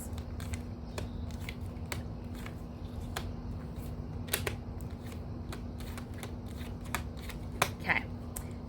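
Tarot cards being shuffled and handled in a quiet room, with steady soft riffling and a series of crisp flicks and snaps over a constant low electrical hum.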